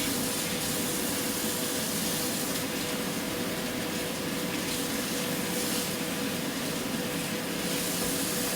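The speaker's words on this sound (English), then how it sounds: "Clean up the spatula." Running tap water pours steadily over a spatula being washed in a kitchen sink, a constant broadband hiss with no breaks, moderately quiet and close.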